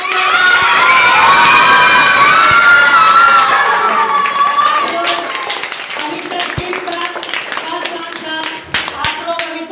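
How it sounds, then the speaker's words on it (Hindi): A class of young children at a government primary school in Bihar, India, cheers loudly with shouts. The cheering then fades into scattered, rhythmic clapping mixed with chatter and a few spoken words. "Very good, Tali बजाइए।"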